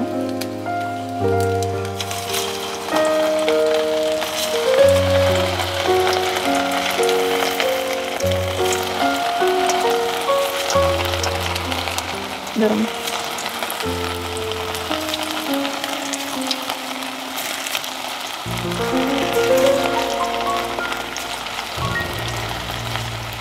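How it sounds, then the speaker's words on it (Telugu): Pieces of mutton pakora fry in hot oil, giving a continuous bubbling sizzle throughout. Some tonal sounds sit underneath the sizzle but no one speaks. "మటన్ని ఒక్కొక్క పీసుగా ఆయిల్లో వేసుకున్నాం."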